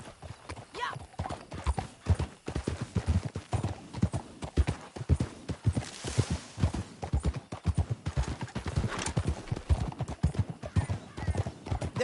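Horse hooves gallop in Red Dead Redemption 2, a fast, steady clip-clop rhythm with a brief whinny, running throughout under intermittent speech and game sounds.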